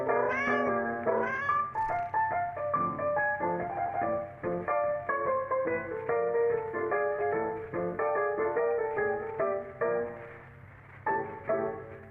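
Cats meowing, a series of drawn-out, tonal meows repeating one after another for about twelve seconds, close and fairly clear over a soft low steady rumble that may be purring, with no voices.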